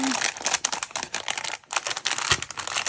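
Plastic packaging from an Amazon order of planner and crafting supplies crinkles and rustles up close as it is torn open, giving a busy stream of crackling bursts with short pauses.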